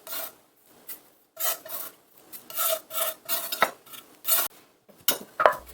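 A knife blade scrapes finely minced green onion across a cutting board toward a bowl in a run of quick, rasping strokes of uneven rhythm, close and crisp, with no talk.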